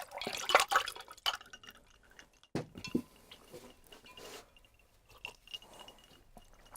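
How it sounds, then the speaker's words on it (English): Water trickling and splashing into a glass at a lectern before a seminar, a few close liquid gurgles and drips, then soft handling noises. "I'm going to pour a little water first, if y'all don't mind"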